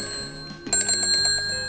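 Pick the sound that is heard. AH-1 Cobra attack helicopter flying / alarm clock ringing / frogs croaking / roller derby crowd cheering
alarm clock ringing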